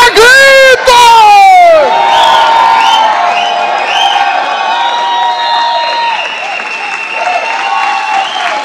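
A church congregation shouts and cheers loudly, with high shrieks and whoops at first, then sustained crowd cries and applause that fade slightly.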